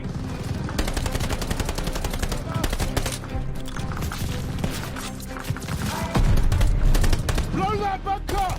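Rapid machine gun bursts rattle almost nonstop in a Call of Duty Vanguard battle, dense and loud with chaotic overlapping shots and a heavier thump near the end, while shouted voices cut through the din.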